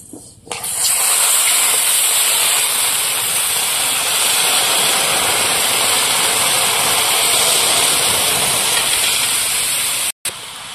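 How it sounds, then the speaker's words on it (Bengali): Water poured into a hot pan of lightly fried mung dal: a sudden loud burst of hissing steam that holds strong and steady for about ten seconds, close up, with no speech. "হালকা করে ভেজে নিয়েছি, এবার জল দিয়ে দেবো।"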